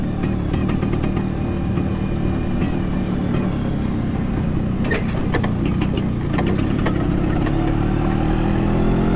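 A Vespa scooter engine drones steadily and loudly throughout a ride, a continuous close motor hum with wind-like noise and no pauses.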